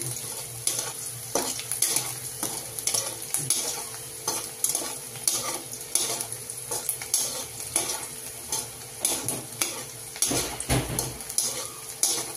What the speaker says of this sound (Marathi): मिरची कांदा भाजून घ्यायचा.